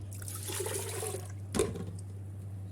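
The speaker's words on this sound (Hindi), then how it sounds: "जिससे दाल नापी थी उसी से 3 गिलास नाप के पानी डालूँगी। पानी डाल देंगे इसमें।" Water poured from a measuring glass into a pressure cooker holding moong dal, a close splashing gush for about a second and a half that then stops, over a steady low hum.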